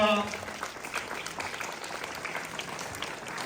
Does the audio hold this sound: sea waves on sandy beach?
no